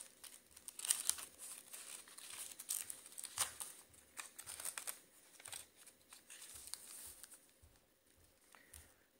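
Paper is folded and creased for a hanbok origami figure, making quiet, close crinkles and soft taps that come in scattered short bursts.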